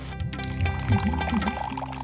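Water poured into a pot of chicken curry with potatoes, a close gurgling pour that runs for about two seconds.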